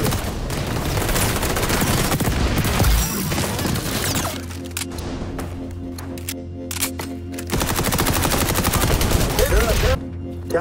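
Heavy gunfire in the XDefiant video game, dense and continuous at first, then broken into rapid bursts over a background of game effects.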